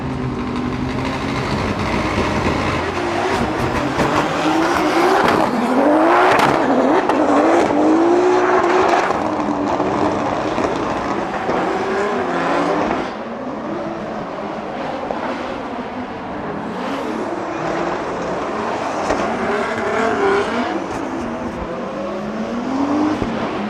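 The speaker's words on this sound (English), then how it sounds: "Yves Meyer continuing on a solo run here. Let's see how the Toyota GR Yaris performs here in Germany." A Toyota GR Yaris drift car on a solo practice run at a Drift Masters event in Germany screams loudly throughout, its engine revs rising and falling in repeated surges with tire squeal, sustained and close.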